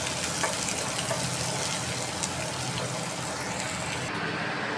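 Onions frying for a vegetable bhaji make a dense, steady sizzle that fills the whole stretch at close range, loud and continuous with no voices over it.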